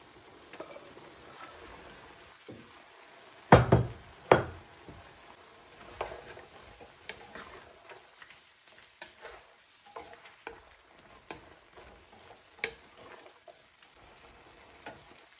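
Asparagus stir-fried in butter and garlic with shrimp in a pan, giving a soft continuous sizzle broken by scattered stirring scrapes and a few sharp utensil knocks.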